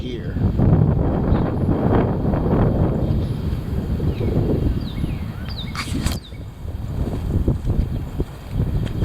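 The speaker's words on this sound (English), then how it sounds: "Sure is windy and cold out here." Heavy, cold wind outdoors buffeting the microphone with a loud, continuous low roar that surges and eases, while a person talks intermittently over it.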